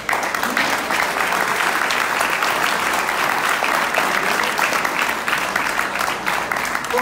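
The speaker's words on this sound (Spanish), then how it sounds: "Un aplauso para que se animen." Sustained crowd applause fills a hall at a political talk in Mexicali, steady and dense from start to finish with no break.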